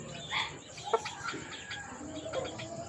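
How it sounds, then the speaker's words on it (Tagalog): An old gamecock at a cockfighting breeder's yard gives soft, scattered clucks, faint and close, amid low background noise. "ito naman po ang pinakamatanda kong manok"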